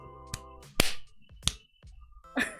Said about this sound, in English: I clap my hands. Or more like I slap my hands.